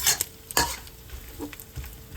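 Seafood being stir-fried in hot oil in a wok for a Cantonese ginger and scallion dish, with a steady sizzle broken by a few sharp scrapes and clanks of the spatula against the metal, close and fairly loud.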